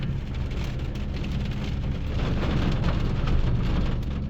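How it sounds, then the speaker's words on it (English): Heavy rain pours steadily and loudly from a thunderstorm, a dense hiss with a low rumble of thunder rolling underneath throughout. "we are just getting absolutely pummeled by this storm. You can hear the thunder."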